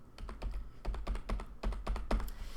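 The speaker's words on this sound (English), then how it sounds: "I'm going to type 1 billion in here" Fingers tap out a quick run of distinct keystrokes on a computer keyboard, close and clear, in an uneven rhythm with no talking.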